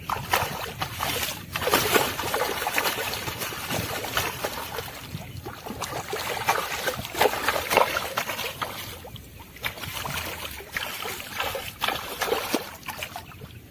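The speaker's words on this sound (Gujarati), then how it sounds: "કેટલું તોફાન કરે, કેટલું પાણી ઉડાડે." A large daro fish thrashes in water, sending up repeated irregular splashes and sloshes, close and fairly loud.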